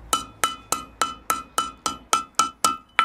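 A hammer strikes a forged steel arrowhead socket on the anvil, ten evenly spaced ringing blows in about three seconds, each a sharp metallic clang with a bright lingering tone, loud and close with no voices.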